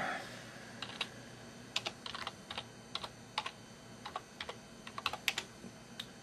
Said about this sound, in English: you type in free disk defragmenter